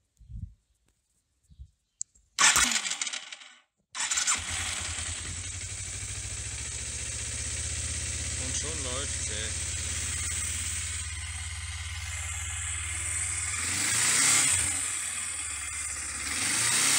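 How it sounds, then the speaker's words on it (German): A Yamaha XS 400 12E motorcycle engine cranks after a few soft clicks and a brief burst, then catches and runs at a steady, close idle, swelling into a louder rev near the end, with no talking. "Und dann habe ich es wirklich geschafft, das Moped auch zu starten."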